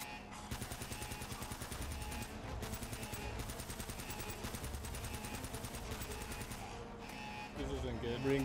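Rapid gunfire from Uncharted: Drake's Fortune crackles in dense repeated bursts of automatic weapon fire, loud and continuous with brief pauses, under a busy game soundtrack.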